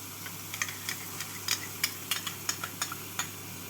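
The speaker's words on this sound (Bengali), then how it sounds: "টক দই দিয়ে ভালো করে নাড়াচাড়া করে নেবো" A spoon stirs spice masala and whisked sour yogurt in a pan for Bengali katla fish kalia, giving soft, irregular scraping taps over a steady low hum. The sounds are close and moderately quiet, with no talking.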